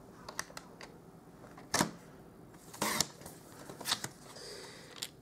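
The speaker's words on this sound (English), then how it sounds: "So I'll just bring my trimmer, and I'm going to cut at 2." Paper trimmer slicing cardstock for a handmade Stampin' Up! card, giving a few sharp, close cutting and sliding snaps among soft handling clicks in a quiet room, with no talking.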